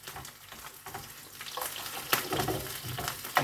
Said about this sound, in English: While the yams are cooked, frying, our yams can fry pretty quickly.